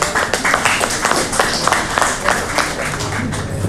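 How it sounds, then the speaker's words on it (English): A round of applause at an awards ceremony: a small audience clapping steadily at close range for a few seconds, with voices murmuring underneath. "Could we all have another round of applause"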